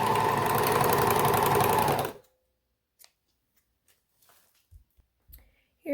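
A sewing machine stitches the shoulder seam of a doll romper, right sides together, in a steady close whir for about two seconds before stopping abruptly, leaving near silence broken by faint handling clicks and a soft thump at the end.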